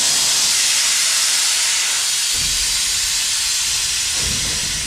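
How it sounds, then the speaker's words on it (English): Compressed air hisses steadily and loudly into trailer air suspension bags, a continuous close rushing noise with low thumps underneath near the middle and end. "The flow of air going into the bags."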